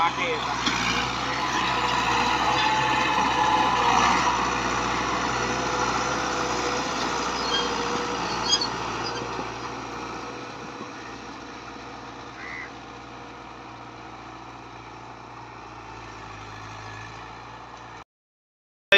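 A New Holland 640 tractor pulls a disc harrow across a field, its engine holding a steady, loud drone for about eighteen seconds before it cuts off abruptly.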